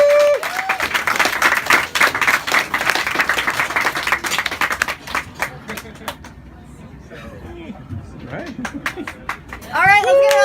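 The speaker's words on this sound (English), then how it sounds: "let's get another round of applause for Beau." Audience applause at an open mic poetry reading in an Orlando coffee house, dense clapping filling the first half then thinning into scattered claps, with a voice speaking briefly near the end.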